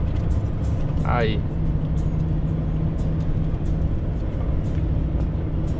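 A Scania truck's diesel engine holds steady at 2000 rpm while descending a mountain road, a constant low drone with a steady hum throughout and a brief voice near the start.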